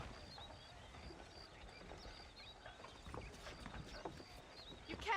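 Horses move in the video game Red Dead Redemption with a faint, steady clip-clop of hooves, accompanied by distant bird calls and quiet outdoor ambience, with no voices.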